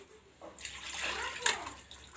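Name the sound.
washing chicken with running water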